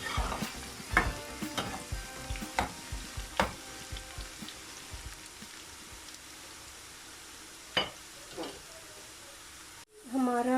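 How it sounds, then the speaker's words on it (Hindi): Garlic and onion fry in oil in a pan as a tempering for masoor dal, with a soft sizzle under a run of spoon-stirring clatters that thin out, then a final clunk near the end. "गार्लिक को ब्राउन कर लेंगे।"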